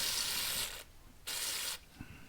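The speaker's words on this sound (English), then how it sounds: "All you have to do is just give it a good spray" CRC mass airflow sensor cleaner sprays from an aerosol can onto the sensor's center in two close hissing bursts, each about half a second, with a brief quiet gap and a faint click after.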